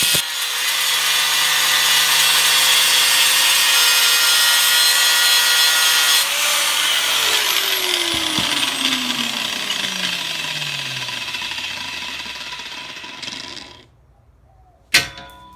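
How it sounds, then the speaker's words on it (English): An angle grinder cuts through metal while building a home forge, a loud continuous grinding screech for about twelve seconds, its pitch sliding down as the disc bites and slows, then it winds off, followed by a sharp clank near the end. "This one needs a little bit more coaxing from the angle grinder."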